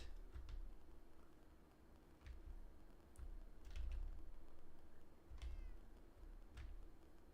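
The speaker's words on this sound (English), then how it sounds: "There's the black cat." A black cat in the Minecraft video game meows a few times, soft and brief, over a low hum with scattered keyboard clicks and no talking.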